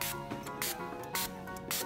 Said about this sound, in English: I'm gonna spray it with just regular water.